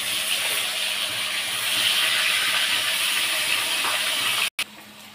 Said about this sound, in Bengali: তেলটা গরম হয়ে গেছে, এবার আমি আলুগুলো দিয়ে দিচ্ছি